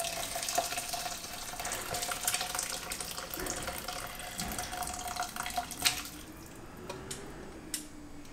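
A liquid floor wash with lemons and camphor is poured slowly into a container, a steady, close stream of splashing liquid that thins out toward the end.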